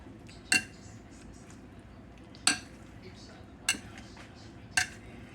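A metal potato masher mashes tender cooked yellow summer squash in a pot, giving four sharp metallic clinks about a second apart over a quiet background.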